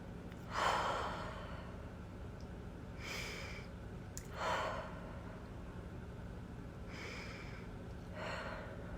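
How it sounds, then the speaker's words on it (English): Several slow, deep breaths taken one after another at a calm pace, soft airy inhales and exhales over a quiet steady background hum, with no talking. "Let's take 3 deep breaths."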